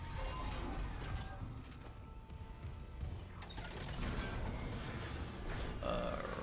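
A door creaks open in the Dead Space Remake video game, with a long grinding metallic creak mixed among low rumbling mechanisms and dense ambient game noise, no talking.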